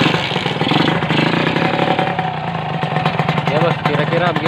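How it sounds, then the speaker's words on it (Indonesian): A Kawasaki Ninja motorcycle engine runs steadily close by with a somewhat rough, uneven idle and a constant buzzing rumble throughout, with no talk over it. "kira-kira begini bos suara mesinnya ya, nggak terlalu halus-halus amat."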